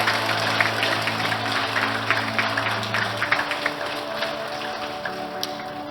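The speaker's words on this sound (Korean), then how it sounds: "감사의 박수 부탁드리겠습니다" A church congregation at Sunday Mass applauds in thanks during a flower bouquet presentation, a steady wash of clapping from a crowd that fades slightly toward the end, with a low organ-like drone under the first half.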